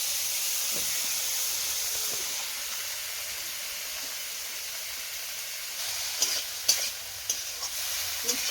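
Bitter gourd and potato pieces with salt and turmeric fry in a pan with a steady, close sizzling hiss. A few soft clinks of stirring come near the end, and no one speaks.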